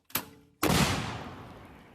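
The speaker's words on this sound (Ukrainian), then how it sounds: "Гармата постріл." A sharp distant crack is followed by a heavy boom that rolls out and slowly decays, an artillery cannon firing outdoors.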